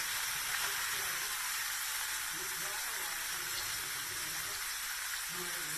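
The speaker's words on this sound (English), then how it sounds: "Let that saute for like a minute or so" Saltfish and callaloo sauteing in a pan give off a steady, even sizzle and hiss that holds at a constant level for the whole stretch.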